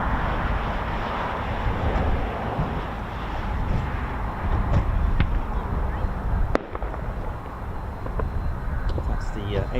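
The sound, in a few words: flare fired at an airfield to scare birds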